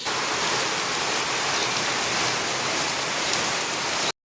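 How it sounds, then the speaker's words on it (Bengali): Light drizzling rain falls steadily outdoors, a continuous even hiss of fine drops with no voices, holding at a constant level before cutting off abruptly. "বৃষ্টি তো ঝিরিঝিরি পড়ছে"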